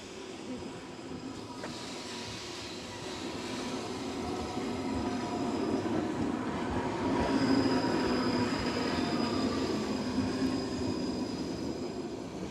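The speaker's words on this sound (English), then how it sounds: "San Francisco train" A train rolls steadily past in San Francisco, a continuous loud rumble of wheels on rail with a faint high squeal and hiss that swells slightly toward the middle and holds to the end.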